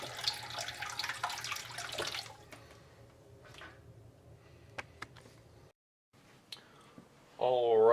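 Water from a turtle tank filter pump splashes and pours for about two seconds, followed by quiet clicks and drips, and then a voice speaks close by.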